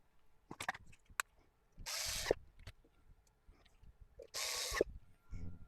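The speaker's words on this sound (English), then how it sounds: "let's put the screws in the bottom back on" Screws going back into the metal base of an Astatic D-104 microphone: close, faint clicks and scrapes of a screwdriver and hardware, with two short bursts of harsher grinding friction, no voices.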